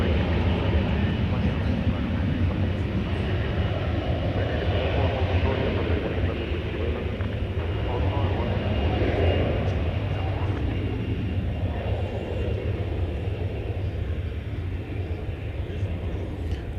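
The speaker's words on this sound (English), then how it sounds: "Got another American Airlines 737-800 coming in, this time from Miami." An American Airlines Boeing 737-800 arriving from Miami at DFW gives off a continuous low jet rumble at moderate distance, steady throughout, with faint voices in the background.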